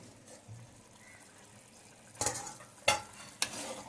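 Taro leaf curry (aluchi bhaji) is stirred in a pan just after tempering, faint sizzling at first, then three distinct scraping, splashing stirs toward the end.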